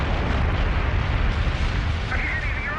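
Explosive eruption of the Galeras volcano: a loud, continuous roaring rumble with heavy low-end energy that fills the whole stretch, plus a brief higher whistling tone near the end.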